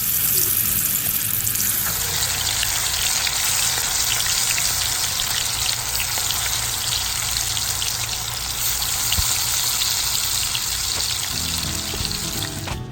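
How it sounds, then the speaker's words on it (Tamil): Marinated chicken 65 pieces fry in hot oil in a pan, producing a steady, dense crackling sizzle that carries on close and loud throughout. "நம்ம மேரினேட் பண்ண வச்சுருந்த சிக்கனை வந்து ஒரு பேனில் ஆயில் ஹீட் ஆனதுக்கப்புறமா ஒன்று ஒன்றா ஆட்"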